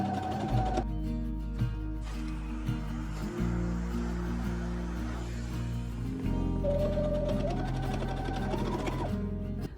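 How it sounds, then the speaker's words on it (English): A sewing machine hems the bottom and sleeves of a bathrobe, its motor running loud and continuous with a rapid needle chatter that shifts in speed and pauses briefly twice. "Finally, I hemmed the bottom of the robe and the sleeves."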